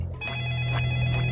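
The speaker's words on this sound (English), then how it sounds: "the phone ringing at 12 a.m." A telephone rings steadily and loudly with a bright electronic tone, continuous through the short stretch, with a low hum underneath.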